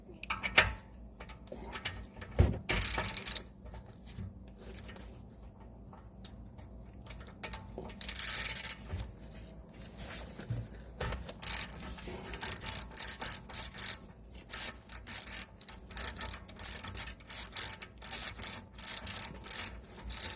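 A tool is ratcheted tight against the front brake caliper piston of a Rolls-Royce Ghost to retract it, giving rapid close clicking and rubbing mechanical bursts with brief pauses, alone without talk.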